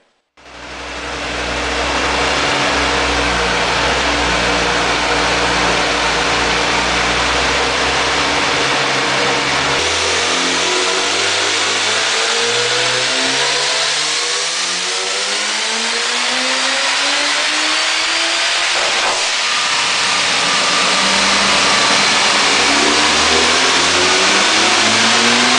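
A car strapped down on a rolling-road dyno at a performance tuning workshop revs hard through repeated long sweeps, the engine note climbing and falling loud and close with no talk.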